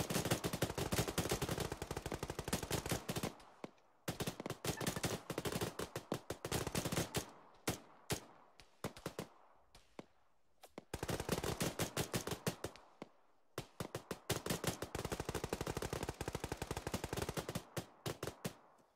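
Automatic weapons fire in Arma 3, set in a Gulf War Operation Desert Storm scenario: long rattling bursts of machine-gun fire with short pauses between them, fairly distant and steady.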